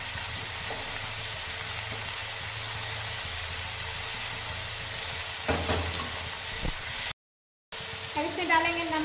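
Mixed vegetables frying on a high flame give a steady, loud sizzle that runs unbroken, with a brief stir clatter, a short gap, and a voice speaking over it near the end.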